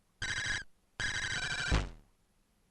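Squealy sound effects from the Super Cars racing game on the Atari ST with the music turned off: shrill electronic tones in two bursts, a short one and then a longer one ending in a falling sweep, with a brief restart at the end.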